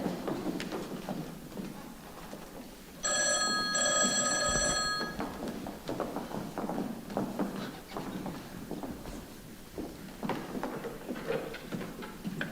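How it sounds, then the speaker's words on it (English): An old-style telephone bell rings in a rapid metallic trill for about two seconds amid shuffling footsteps and background room noise, which carry on after the ringing stops. "I just received a phone call from Mr. Sullivan"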